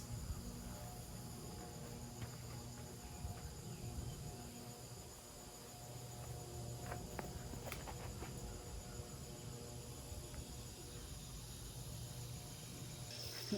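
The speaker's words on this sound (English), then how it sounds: "cicadas, of course." Cicadas buzz outdoors on a golf course, a faint, steady insect drone with a constant hum, heard alone in a quiet open setting.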